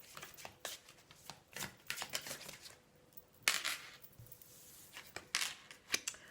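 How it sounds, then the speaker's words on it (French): Tarot-style cards are drawn and shuffled from a deck, making soft papery flicks and slaps. These come in irregular bursts with short pauses between them, close by and fairly quiet. "on va en tirer 5 de cartes"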